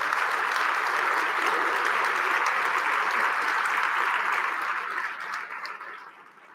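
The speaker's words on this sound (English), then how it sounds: "Could you please give them a round of applause for the work that they're doing?" An audience at a city's State of the City address claps in a steady, dense roar of applause that holds strong, then thins and fades toward the end.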